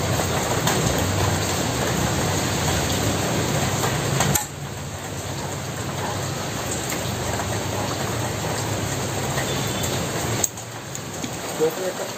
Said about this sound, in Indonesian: mohon maaf jika suaranya kurang jelas karena ini sedang ada hujan